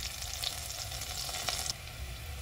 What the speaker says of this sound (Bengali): এগুলো খুব সুন্দর করে এই যে ভেজে নিয়েছি।